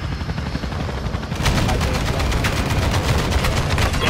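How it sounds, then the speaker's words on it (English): Chopper gunner helicopter gunfire from Call of Duty: Modern Warfare 2, a loud, dense stream of rapid automatic fire and thudding impacts over a steady rotor roar, continuing without a break and intensifying after the first second. "I just called the chopper gunner in"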